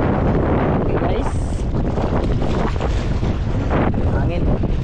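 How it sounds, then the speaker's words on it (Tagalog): Strong wind buffets a microphone by the sea at a fishtrap camping spot, a loud continuous roar with gusty surges throughout. "Hangin."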